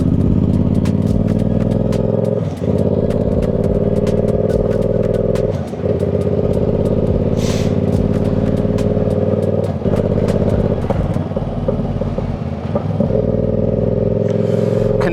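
A motorcycle ridden steadily with a loud, close engine drone, broken every few seconds by brief dips as gears are shifted, with light mechanical clatter over the top.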